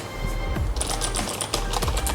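Rapid clicking keystrokes on an MK61 mechanical computer keyboard in a computer shop in Korat, a dense run of close, fairly loud taps over a steady low background hum.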